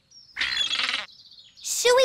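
Seagulls in a snowy cartoon scene let out shrill, squawking calls, two loud bursts separated by a thin, sustained high whistle-like tone, sharp and close.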